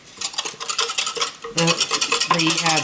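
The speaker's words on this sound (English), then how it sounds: "I'm going to add a tablespoon of cornstarch to it and stir it in" Cornstarch is stirred into beef broth with a utensil in a pot for sloppy joes, giving repeated scraping and light clinking strokes in a brisk, uneven rhythm, close and fairly loud.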